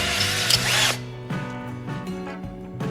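A drill-driven hone working inside a cylinder bore of a junkyard small block Chevy engine, lubricated with a WD-40 type oil, whirring loudly for about a second before fading into quieter, intermittent short spins and clicks.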